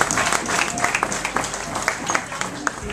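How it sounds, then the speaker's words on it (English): Applause from the audience at a ward candidates forum, with close, dense clapping and scattered voices mixed in throughout a short, lively burst. "I want everybody to give themselves a fantastic hand of applause."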